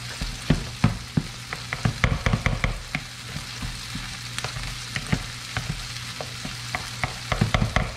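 Meat browning in a pan for shepherd's pie gives a steady close sizzle, broken by frequent clinks and scrapes of a utensil stirring; no one talks.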